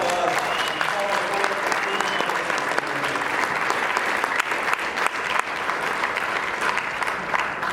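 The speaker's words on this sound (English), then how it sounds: "let's give him a round of applause" An audience at an awards ceremony claps steadily, a dense wash of applause that holds throughout, with faint talk beneath it.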